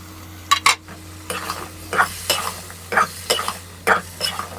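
A spoon stirs dried fish curry with vegetables in a hot pan, giving a series of scraping strokes at a roughly even pace over a low steady sizzle, close and fairly loud.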